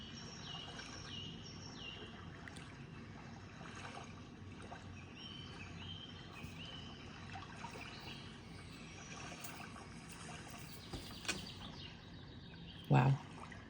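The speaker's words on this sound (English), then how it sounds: "And then of course the birdies chirping" Birds chirp faintly beside a lake over steady lapping water, with a brief knock near the end.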